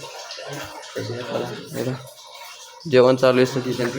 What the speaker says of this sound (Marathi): पाणी सोडलेलं इकडे आंघोळीला